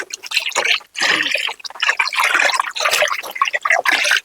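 Liquid NPK fertilizer poured into a 200 litre drum, an uneven close splashing and gurgling pour with brief breaks, loud and alone without talk.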